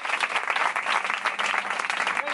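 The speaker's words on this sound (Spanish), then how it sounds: "fuerte aplauso para vosotros también" A crowd gives steady, dense applause for marathon runners, close and loud for the whole stretch with no clear voices on top.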